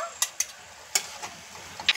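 Ginger garlic paste sautés in a pan for a prawn masala, a faint low sizzle broken by a handful of sharp spatula clicks and scrapes against the pan, no talk.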